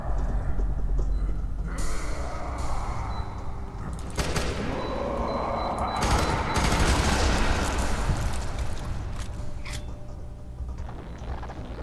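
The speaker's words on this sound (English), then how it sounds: "I'll be switching to my machine gun" Machine gun fire in the video game F.E.A.R. 3 comes as loud, rapid bursts of shots, interleaved with mechanical clatter and other loud game action.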